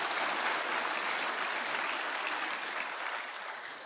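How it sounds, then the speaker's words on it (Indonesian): A seated audience at a talk gives a full round of applause, many hands clapping in a thick, steady wash that slowly tapers toward the end, with no one speaking over it. "Jadi tolong berikan tepuk tangan kepada saya"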